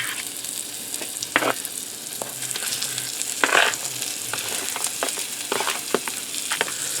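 Hamburger meat and onion frying in a pot for vegetable soup, a continuous near sizzle broken by sharp stirring scrapes and spoon knocks every second or so, with no talking.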